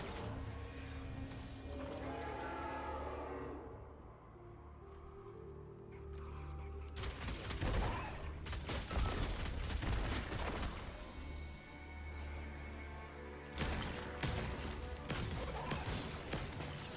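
Gunfire at a shooting range in Destiny 2, a dense run of sharp shots and bursts over a steady background, loud and close, in several clusters across the stretch.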